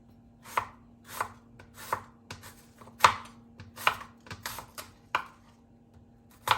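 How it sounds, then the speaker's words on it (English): A knife slices through apples on a cutting board while cooked apples are prepared for breakfast, giving about ten crisp, close chopping strokes at an irregular rhythm with no talking. "I take this and I slice it down one more time."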